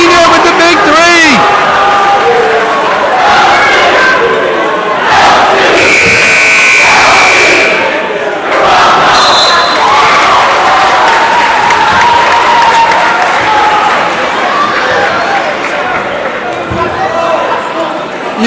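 Home crowd cheering and applauding at a high school basketball game between Lansdale Catholic and LaSalle College High School, a loud sustained roar with a student section on jersey night, a buzzer tone mid-way and commentary over the top.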